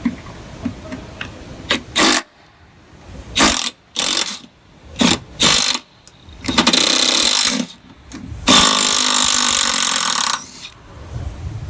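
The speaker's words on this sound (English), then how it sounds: "you can go ahead and loosen the two 14 mil head bolts that hold the fuel tank straps on" Power tool bursts loosening the two 14 mm bolts on the fuel tank straps of a 2007-2021 Toyota Tundra during fuel pump replacement, several short loud runs followed by two longer sustained whirs, with no talking.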